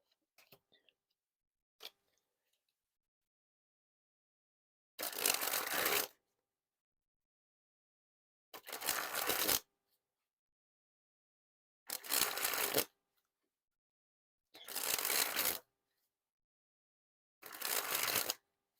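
Fuchsia Bicycle Rider back playing cards sprung from hand to hand in five separate bursts, each about a second of rapid fluttering card riffle, crisp and close with silence between them.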